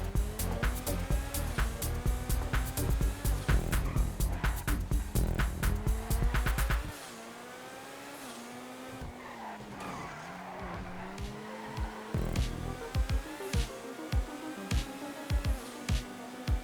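Race car in the video game GTA Online sliding through corners, with a loud revving engine and shifting gears for the first seven seconds, then repeated tire squeals and skids over a lower engine drone.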